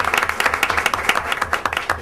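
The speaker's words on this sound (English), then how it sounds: "Another applause." Applause at a school board of education meeting, a brief burst of a small group clapping with distinct, rapid, close hand claps in an uneven rhythm.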